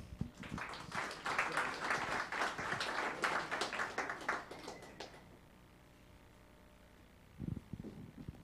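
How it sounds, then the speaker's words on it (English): Audience applause, dense and sustained clapping for about five seconds, then fading to near silence before a brief low thump. "An applause to David Salgado."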